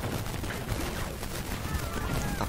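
Rapid gunfire from the Speedy Gunfire FireForce shooter game on an Android phone, a dense, continuous burst of shots that fills the whole stretch without pause.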